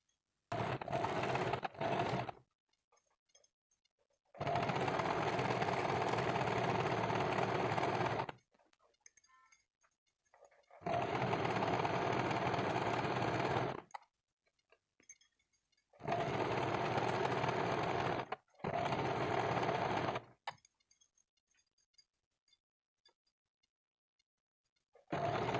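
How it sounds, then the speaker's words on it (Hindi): A sewing machine stitches a kurti in four long, steady runs of several seconds each, separated by silent pauses, with a couple of brief starts at the beginning. "तो अब हम इसको सिलाई कर देते हैं।"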